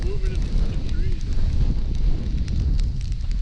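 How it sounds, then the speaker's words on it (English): Wind gusts at a campsite on Stillwater Reservoir, New York, rumble loudly and buffet the microphone in a steady, close roar with a faint crackle, while a person talks over it. "Yeah, we're a little windy now."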